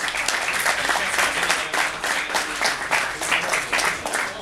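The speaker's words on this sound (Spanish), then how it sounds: "Aplausos, por favor." An audience at a Gigabyte overclocking event in Argentina claps in dense, sustained applause that stays loud and continuous throughout.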